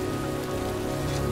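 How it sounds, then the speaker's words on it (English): Steady rain pours onto surfaces in the video game Heavy Rain, a dense continuous patter that stays even and close throughout, with no voices. "It's raining."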